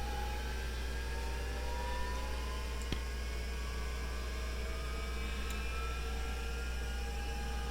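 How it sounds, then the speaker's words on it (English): Engine number 2 of a Bell 412 helicopter in the X-Plane 11 flight simulator spools up as a steady turbine whine over a constant low hum, with rising tones sweeping gradually upward and a brief click near the middle. "Alright, let's start engine number 2."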